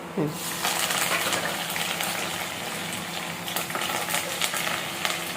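Oil tempering with mustard seeds, cumin and curry leaves in a kadhai, a dense steady sizzle and crackle at close range, loud and continuous throughout, with a brief voice at the start.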